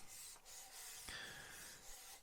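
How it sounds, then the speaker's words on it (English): A cloth rubbed back and forth over the painted surface of a Revell 1/48 PBY-5 Catalina model aircraft, giving soft continuous swishing strokes, quiet and close, with no one talking. "I know it's rubbing it over the whole surface, but it is actually lifting it"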